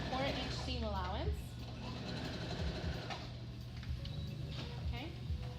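A sewing machine stitches a seam at its longest stitch length, a close, steady mechanical whir running throughout while a person talks over it.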